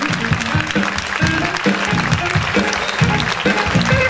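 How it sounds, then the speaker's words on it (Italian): A beauty pageant finale audience applauds an actress and television host, loud continuous clapping close up, with music or crowd noise pulsing rhythmically underneath throughout. "È qui con noi e l'applauso lo merita, grande, grande, grande"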